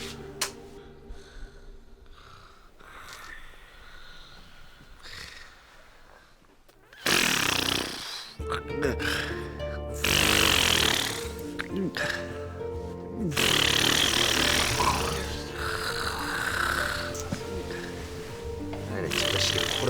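A man snores loudly through his mouth in military barracks: a quiet stretch with faint sounds, then long, rough, rasping snores in heavy bursts, close and harsh, with some voices around them.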